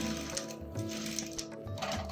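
A sewing machine tacks down a trouser pocket with a steady, fast mechanical whirring and needle clatter, fairly quiet and continuous with no voices over it.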